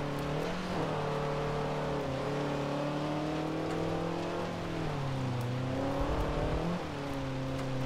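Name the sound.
car engine shifting gears in Forza 7 video game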